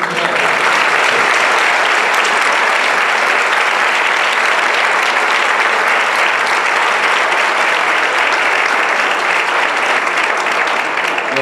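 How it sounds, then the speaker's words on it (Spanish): Sustained, loud applause from a conference audience at an international civil and environmental law congress, honoring the interpreter; dense clapping fills the room evenly from start to finish with no one speaking over it. "yo les quiero pedir un aplauso muy especial para el traductor"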